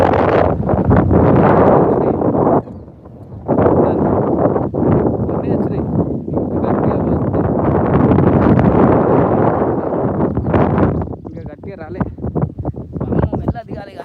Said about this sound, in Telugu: గాలి ఉంది